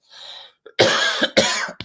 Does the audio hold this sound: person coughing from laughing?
yes